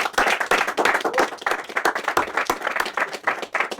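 A close, dense crowd claps steadily and energetically in welcome for a performer at a music session, the applause continuous throughout.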